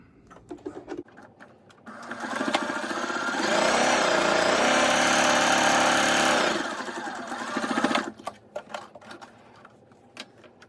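A sewing machine top stitches a fabric face mask in one sustained burst of rapid, loud whirring, framed by quieter handling clicks before and after.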